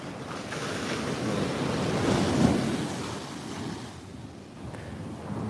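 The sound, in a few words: ocean waves on the beach at Muaro Bantiang, Tarusan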